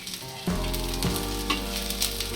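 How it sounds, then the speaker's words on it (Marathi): Coriander seeds, bay leaf, whole spices and two chillies roasting in a pan for yelavani amti, starting with a sudden loud sizzle as they hit the heat, then steady crackling with a few stirring knocks, no voices. "धने टाकते आणि हे तेजपत्ता खडा मसाला आहे तो पण टाकून घेऊया त्यात दोन मिरच्या टाकल्या आहेत मस्त भाजून घेऊया"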